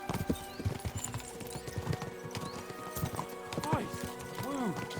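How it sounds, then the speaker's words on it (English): Galloping horses in the Kingdom Come: Deliverance II video game, hooves clip-clopping in a steady rapid rhythm with a horse whinnying near the end, voices talking over it. "We should spur the horses on."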